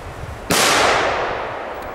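A single sharp, loud bang from Belgian fireworks set off electrically, a firecracker blast erupting from near quiet and fading away over a long tail, with no voices.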